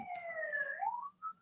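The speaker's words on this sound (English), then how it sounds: "there's like sirens everywhere" Sirens wail outside in the distance, a rising and falling electronic tone that drifts across about a second and a half, fairly faint against a quiet room.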